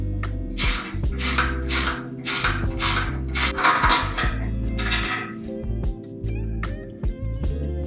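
A ratchet wrench with 14mm sockets clicks in rapid bursts while loosening exhaust mid pipe bolts at a car's muffler, close and loud, with short pauses and faint metallic clinks between strokes.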